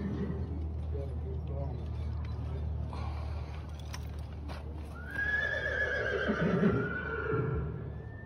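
Suffolk draft horses at a North American Suffolk Horse Association obstacle course event: hooves thud and clop beneath a voice talking, then a loud, drawn-out whinny rings out near the end.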